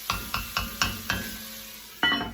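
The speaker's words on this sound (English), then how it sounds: "I'm going to stir it up a little bit." Onions sizzle in a hot pan over medium-high heat while being stirred, giving six sharp scraping strokes in quick succession over a steady frying hiss, close and fairly loud.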